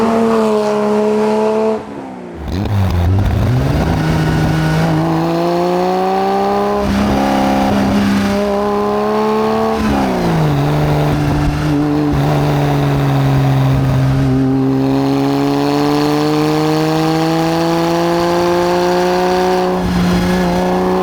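A backdated Porsche 911 Carrera Sport built by 911 Retroworks, fitted with an owner-chosen exhaust, pulls hard while driving. Its engine note climbs steadily through the gears, with brief dips at shifts, and stays loud, close and continuous with no talking.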